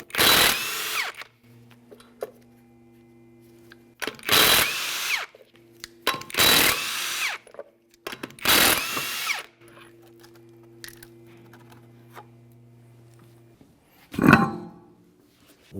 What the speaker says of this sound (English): continue on to removing all 4 of your 19mm lug nuts,